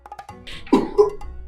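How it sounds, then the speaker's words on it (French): A single short cough bursts out after a brief vocal sound, close and fairly loud, followed by a second smaller cough. "Est-ce que tu viens de tousser?"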